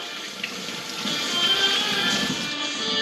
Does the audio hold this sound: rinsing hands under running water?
yes